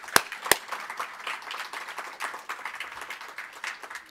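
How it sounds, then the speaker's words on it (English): An audience at a poetry reading in a university library claps, beginning with two sharp close claps and then settling into moderate, steady applause from a modest crowd. "Clap for that."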